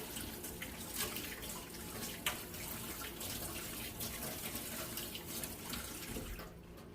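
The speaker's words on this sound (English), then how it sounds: "let's throw a little bit of cold water in the face." Cold water from a sink is splashed onto the face after shaving: faint, continuous running and splashing with a few sharper splashes, heard quietly and alone.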